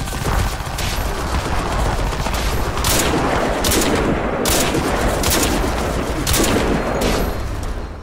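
Sustained gunfire in a Crysis 3 multiplayer match, a steady loud stream of shots with sharper bursts standing out at intervals over the constant din.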